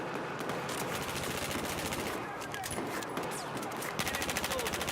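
Rapid pistol shots ring out in a video game as a fast, evenly spaced run of cracks that keeps going over steady background game noise.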